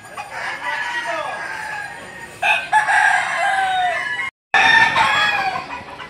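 Roosters at a livestock auction market in Lipa, Batangas crow loudly and close by, one long call after another with clucking and crowd murmur beneath.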